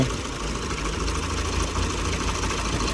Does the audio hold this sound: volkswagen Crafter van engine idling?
yes